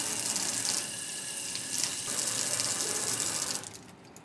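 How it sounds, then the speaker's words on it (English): Tap water runs steadily into a sink during hand washing before and after patient contact, a close, continuous splashing rush that fades out near the end. "Hand washing should be performed before and after patient contact to break the chain of infection."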